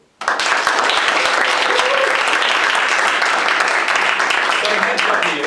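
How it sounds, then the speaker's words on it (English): A workshop audience breaks into applause, a dense, steady burst of many hands clapping that starts abruptly after a brief silence and continues loudly to the end. "Give him a round of applause, by the way."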